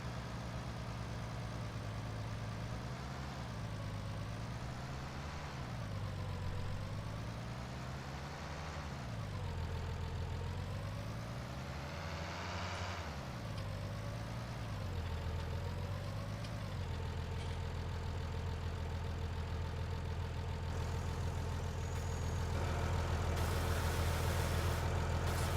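A tractor engine in a farming simulator game drones steadily, a low diesel rumble with slow rising and falling revs over about twenty-five seconds, louder toward the end, with no talk.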